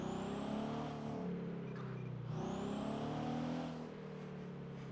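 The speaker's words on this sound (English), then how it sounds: "I heard a fast car." In the GTA V NoPixel roleplay game, a car engine revs and pitches up and down in sweeping tones. It sounds faint and distant, like a fast car passing nearby, with no talk.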